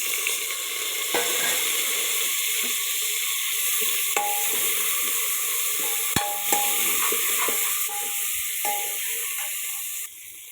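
Tomatoes tossed into a pan of frying potato curry with fenugreek leaves, producing a loud continuous hiss and sizzle, with occasional clinks and scrapes of a spoon nearby.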